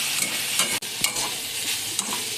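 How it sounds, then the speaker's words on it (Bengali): Water spinach being stir-fried in a pan with turmeric and salt, a bright steady sizzle broken by quick spatula scrapes and a sharp clack, close-up with no speech. "এবার একটু ভেজে নেবো ভালো করে"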